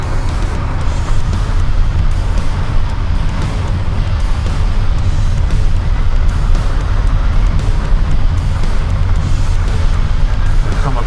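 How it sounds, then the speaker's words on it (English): A Honda CBX motorcycle on a long ride, loud constant engine drone mixed with heavy wind rush throughout, close and unbroken, no talk. "This is our first long ride on the CBX."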